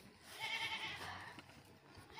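A goat gives a single faint, wavering bleat from inside a pen, soft and slightly distant against quiet background noise.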